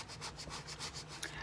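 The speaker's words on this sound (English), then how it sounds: "So I just scrape and scrape, rub and rub," Paper being scraped and rubbed for a junk journal makes repeated rhythmic rasping strokes, close and fairly quiet, with no voices.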